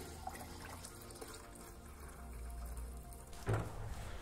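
Water runs steadily into a measuring container as it is filled to 900 ml while diluting primer concentrate, a continuous close splashing flow that ends with a brief louder burst near the finish, with no talking.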